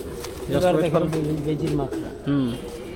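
Pigeons coo on a rooftop loft stocked with fancy breeds, several low rolling coos rising and falling close by, with people talking over them.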